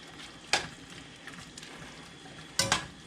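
Beef and cabbage stir fry stirred in a pot with added water, giving two short scraping clatters of a utensil against the pot over a low background.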